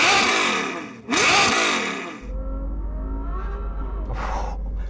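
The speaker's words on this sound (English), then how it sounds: "Let's hear that naturally aspirated V12 from the Ferrari though" A Ferrari GTC4's naturally aspirated V12 with an aftermarket exhaust revs loudly twice in quick sharp bursts, then settles into a low, steady idle before a final shorter blip.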